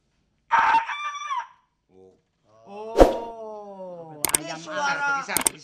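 A rooster crows with loud, harmonic cock-a-doodle-doo calls, one early and a longer one in the middle. Sharp clicks and knocks accompany them, and people talk nearby.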